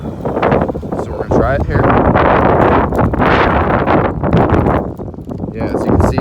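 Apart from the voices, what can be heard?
strong wind gusts outdoors, about 30 mph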